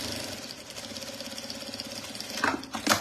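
Sewing machine stitching a Christmas placemat, running at a steady, even rhythm throughout, with a couple of louder mechanical bursts near the end.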